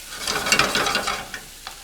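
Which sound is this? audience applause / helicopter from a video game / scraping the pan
scraping the pan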